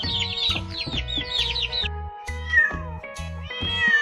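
A cat meows repeatedly in quick, close succession for the first half, then gives a few drawn-out mews over a rhythmic musical backing.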